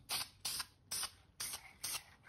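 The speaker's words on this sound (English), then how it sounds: "what I'm doing is spray contacting like foam onto the piece here" A can sprays contact adhesive onto a foam piece in a home garage, making five short, close hissing bursts in a quick, even rhythm with brief pauses between them.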